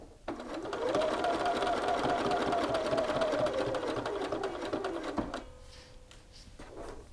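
A sewing machine stitches pockets onto a garment, its motor whirring steadily and loudly for about five seconds before stopping, then a brief quieter run, with a person talking nearby.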